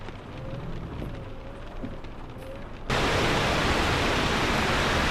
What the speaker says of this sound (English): Does this rain sound different to you?